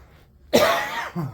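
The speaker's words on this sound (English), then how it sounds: "Excuse me, I'm still coughing up dust from the fest." A single harsh cough after a brief quiet moment, close and fairly loud, trailing off with a short throaty sound.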